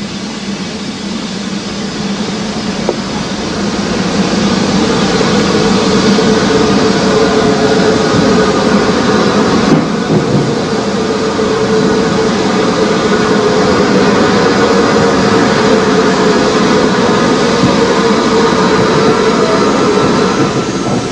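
Crab 2-6-0 mogul steam locomotive, a loud, steady rumbling roar that holds at full strength throughout, with no voices.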